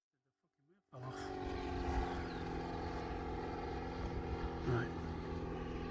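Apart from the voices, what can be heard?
Seagull Lysander RC model airplane engine at low throttle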